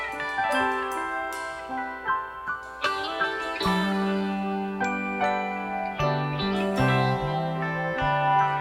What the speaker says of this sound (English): Some of the chimes coming in.